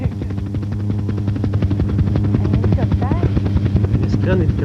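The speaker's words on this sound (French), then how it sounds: "Un hélicoptère?" Helicopter rotor chopping loudly in a steady rapid beat throughout, with voices talking over it in a lively children's TV show.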